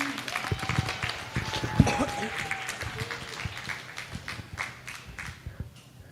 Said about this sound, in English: let's go ahead and give our young exhibitors a round of applause